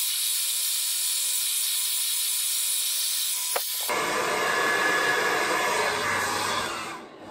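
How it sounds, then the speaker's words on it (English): Hair dryer blowing on hair, a steady loud airy roar and hiss close by, shifting tone about halfway as the airflow or setting changes, then winding down at the end. "I'm gonna dry my hair."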